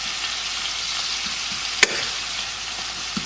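Seasoned meat frying in a pan, with a soft, steady sizzle and a few light stirring scrapes, one sharp utensil knock partway through and another near the end, no talking.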